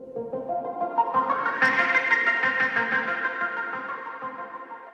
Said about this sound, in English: It adds a bit of twinkle to the background, and with effects, sounds like this.